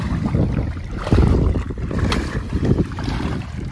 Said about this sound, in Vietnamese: Gió quá, thông cảm chú ơi.